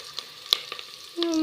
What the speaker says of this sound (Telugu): కరివేపాకు వేసుకున్నా. మంచిగా కలుపుకోవాలి.